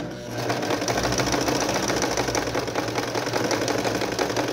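Close, steady rapid chatter of a sewing machine stitching a blouse shoulder seam with a backstitch, running continuously at an even pace without pauses.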